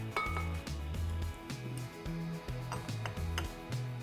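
A spoon scraping and clinking against a glass bowl while stirring coconut sugar with scooped vanilla beans into a body scrub, in quick rhythmic strokes, close and fairly quiet, with no talking.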